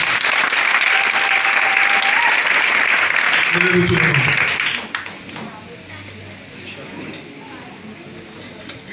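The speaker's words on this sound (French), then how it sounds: "Acclamons très fort pour le Seigneur." A church congregation applauds at a worship service, a dense burst of clapping that fills the first half, then falls away into scattered faint claps and room noise, with voices and shouts mixed in.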